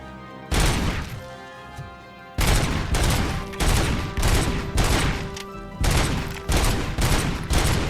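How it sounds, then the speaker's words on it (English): Gunfire slams into a statue in Robocop: Rogue City as loud, close bursts of heavy shots repeat, with impacts, brief pauses and a sustained tone under part of it. "I'm just shooting up the statue."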